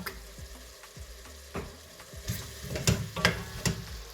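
Vegetables and chopped garlic fry and sizzle in a pan for an Italian lasagne sauce, with repeated close scraping strokes of a spoon stirring them, the sizzle building louder toward the end.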